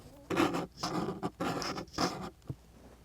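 Loud, rough scratching bursts as a worn cross-stitch needle drags through fabric, recorded by a microphone on the fabric surface, several rasping strokes close up in quick succession.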